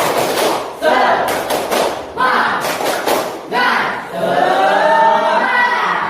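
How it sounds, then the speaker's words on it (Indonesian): A classroom of students performs a rhythmic spirit clap, loud bursts of group clapping in patterned beats with voices chanting along between them. "kita tepuk semangat dulu biar semangat"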